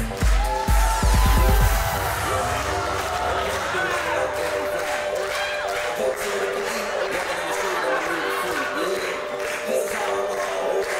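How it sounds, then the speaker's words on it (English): Wedding reception guests applaud and cheer for a couple being introduced, a dense, steady wash of clapping and crowd noise that holds for the whole stretch, with a heavier low burst at the start. "How about a big round of applause for them?"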